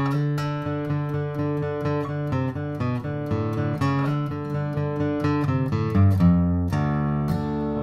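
An acoustic guitar in drop D tuning plays a flatpicked bluegrass-style riff, a quick run of single picked notes over ringing low strings, clear and close with no talking.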